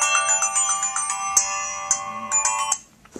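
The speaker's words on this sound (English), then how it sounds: "That's the bells." Bells ring in a bright, layered cluster of sustained tones, with sharp repeated strikes renewing the ringing before it cuts off and fades near the end.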